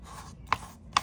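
A hand presses a journal cover's edge flat, two sharp, close rubbing thumps about half a second apart over a quiet background.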